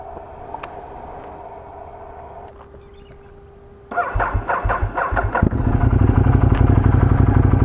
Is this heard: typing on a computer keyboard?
no